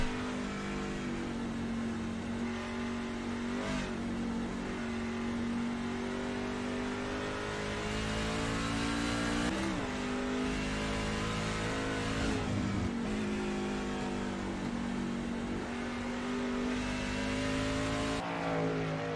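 Racing trucks roar around the Sonoma circuit, a loud sustained engine drone with shifting revs and pitch sweeps as they accelerate and pass, continuous throughout.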